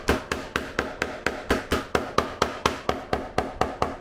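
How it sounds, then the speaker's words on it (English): A hammer taps glued leather pieces of a tri-fold wallet with stacked pockets, about sixteen sharp, close, evenly spaced blows in a steady rhythm. "I'm going to go ahead and tap on it with a hammer a little bit just to really set that."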